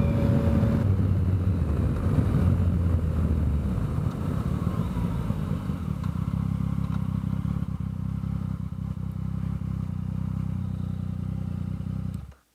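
A motorcycle on the road pulls away and accelerates with a loud, rough engine drone and wind rumble, holding a steady throaty note before cutting out abruptly at the end.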